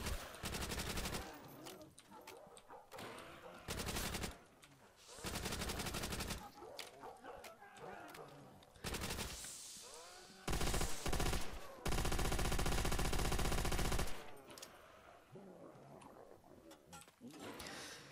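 An MG machine gun in the Custom Zombies map Miquiztli fires in long, dense bursts, loud and close, broken by brief pauses, with creature growls and game noise mixed in between the strings of shots.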